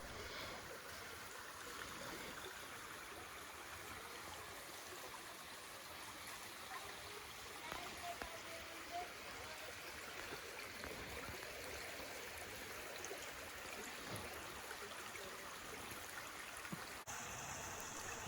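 A stream flows through Devil's Eyebrow Natural Area, a soft, steady wash of trickling water heard faintly at a distance, unbroken for the whole stretch.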